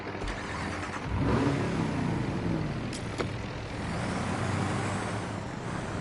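An off-road truck engine revs in the mud-driving video game Expeditions: A MudRunner Game, a steady mid-pitched roar that swells in a rising rev and holds, with faint clunks over the noise.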